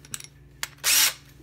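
A power drill with a bit fitted, used to build a fishing rod holder, gives a few short trigger clicks and then one brief, close whirring burst of under half a second.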